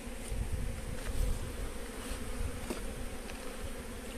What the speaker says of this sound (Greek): η μέλισσα.